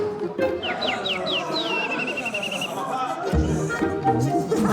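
A person whistles an imitation of bird calls at a party, a short series of rising chirps then a longer sustained tone, heard up close amid background chatter.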